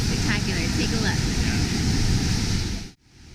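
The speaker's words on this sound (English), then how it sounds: "right now we're at Germany's highest waterfall and it's pretty spectacular" Germany's highest waterfall in the Black Forest roars as a steady, dense broadband rush, loud and unbroken for about three seconds before it cuts off abruptly near the end.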